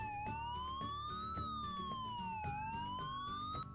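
A loud wailing siren sweeping slowly up and down in pitch, steady and continuous over a pulsing rhythmic background.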